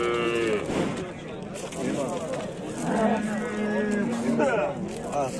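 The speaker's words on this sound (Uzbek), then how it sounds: "Navbatdagi sigirimiz bolasi 2 oylik novvoschi ekan." A cow with a two-month-old calf at a livestock sale lets out drawn-out moos over steady background noise, while voices talk nearby.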